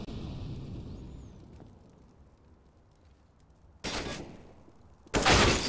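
Gunfire in the video game Counter-Strike on the Nuke map: two loud, abrupt bursts of shots near the end after a quiet stretch of faint ambience.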